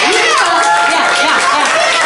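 A packed audience at a youth slam poetry team showcase claps and cheers loudly, with whoops and shouts riding over a dense, continuous wash of crowd noise.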